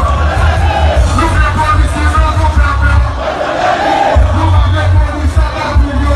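A large crowd at a street march roars and chants together, loud and dense throughout with a heavy low rumble and overlapping shouting voices.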